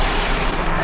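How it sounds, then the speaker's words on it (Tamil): A planet blows apart in the space-destruction video game Solar Smash, a loud dense roaring explosion filling the whole moment with no voices. "அவ்வளோதாங்க வெடிச்சு சதுரிடுச்சு."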